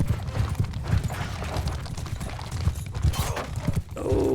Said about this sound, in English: Yep, I can ride you. Just a generic Aserai horse.